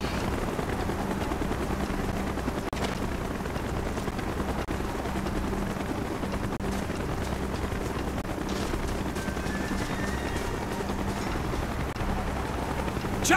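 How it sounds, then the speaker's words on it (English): Helicopter in the video game Call of Duty: Black Ops, a continuous rotor drone and engine rumble holding steady throughout, with faint mechanical noise and scattered distant impacts around it. "Chopper's inbound."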